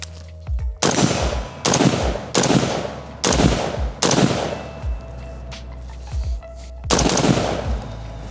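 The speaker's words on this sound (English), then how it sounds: "Let's check out the JAKL. So the JAKL, it's new, it's hot, it's awesome, it's .308." A JAKL .308 rifle fires about six loud, sharp shots or short bursts, spaced roughly a second apart, each cracking out clearly with no talking.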